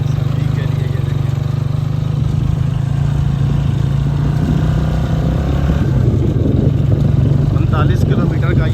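A motorcycle on a rough, difficult mountain road in the Siran valley near Mansehra rides with a steady, close engine drone throughout. Voices talk over the engine.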